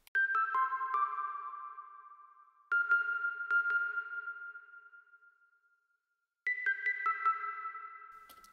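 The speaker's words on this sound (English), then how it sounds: "And yeah, this is how the bell sounds." A reverb-soaked bell with lows and highs filtered out, part of a beat, rings in three quiet clusters of struck tones that decay slowly, heard alone without drums.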